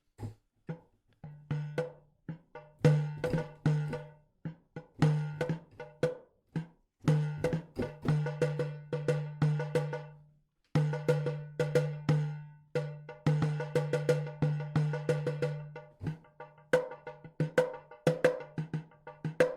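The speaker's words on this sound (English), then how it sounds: "The Dumbeck." A doumbek goblet drum plays a steady, busy rhythm of deep resonant bass tones mixed with crisp, ringing rim taps, continuing with a brief pause midway.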